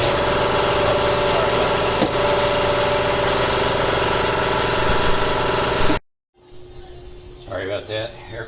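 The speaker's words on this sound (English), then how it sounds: "Air compressor is definitely loud, but it's nice to have" Loud air compressor running steadily in a workshop during a gearbox teardown, a constant droning engine-like hum that cuts off abruptly, followed by quieter room sound and a voice talking.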